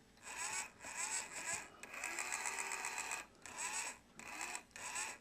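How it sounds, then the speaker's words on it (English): A 12 volt gear motor overdriven on 24 volts, whining loudly up close in repeated bursts of roughly half a second to a second, separated by short pauses. "24 volts into a 12 volt gear motor."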